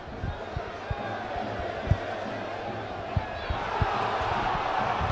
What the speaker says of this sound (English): Crowd crying for a penalty.